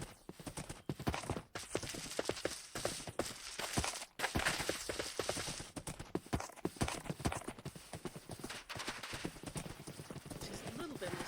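Horse hooves walking through a taiga in a block-building survival game, a steady clip-clop rhythm running throughout under someone talking.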